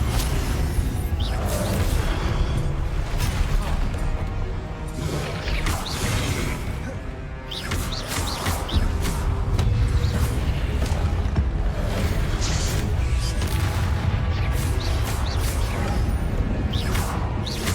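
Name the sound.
spell combat explosions from the video game Hogwarts Legacy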